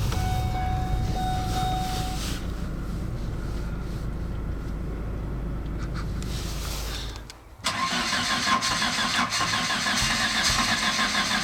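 A car with a rotary engine cranks sluggishly on a cold day, a loud close mechanical churn that dips briefly to near silence before the engine catches and settles into a steady, busy idle.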